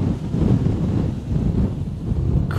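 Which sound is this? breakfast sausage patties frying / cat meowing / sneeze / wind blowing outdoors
wind blowing outdoors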